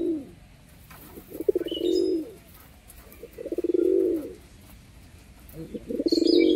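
Pigeons in a Giribaz loft coo in three clear, rhythmic bursts separated by short pauses, close and fairly loud, with faint chirps and rustling in between.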